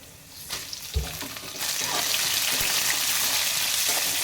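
Chopped onions sauté in a pan for godhumai rava kichadi, a faint hiss swelling into a steady, fuller sizzle after a couple of soft clinks of stirring.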